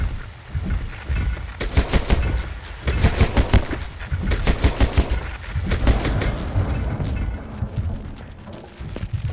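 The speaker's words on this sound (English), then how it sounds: "we pumped that thing full of rounds from our new assault rifle" Bursts of assault rifle fire in Silent Hill: Origins, loud and close, coming in rapid clustered volleys with short pauses, over a low rumbling game ambience.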